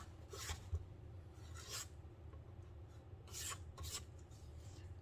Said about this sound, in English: let's get this scraped down.